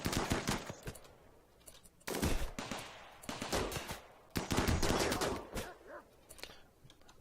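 Rapid bursts of automatic gunfire from a RimWorld colony battle crackle in several loud volleys separated by brief pauses.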